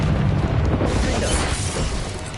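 In Hogwarts Legacy, a Confringo fire curse blasts with a dense, roaring boom and a crackling, shattering texture that holds steady and loud for a couple of seconds before easing slightly.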